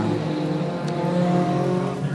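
Dirt late model race cars roar together at Moler Raceway, a dense, steady wall of engine noise from a close pack running four wide, with no voices over it.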